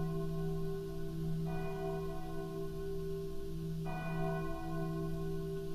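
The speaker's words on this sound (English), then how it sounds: "a bell that keeps going off all the time." A bell of unknown origin rings with sustained, tonal strikes, a fresh strike about every two and a half seconds over a steady hum, fairly clear and carrying without voices.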